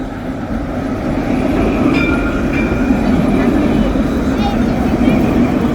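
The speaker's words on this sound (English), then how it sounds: "I'm gonna try not to get hit by the tram" A loud tram rumbles past nearby in the old town of Nice with a continuous low roar and faint squealing tones, while a voice talks over it.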